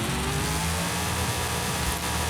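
A badly damaged, low-powered car engine revs in the racing game Forza Horizon 5, a loud, close engine drone whose pitch climbs in stepped harmonics and then drops away partway through.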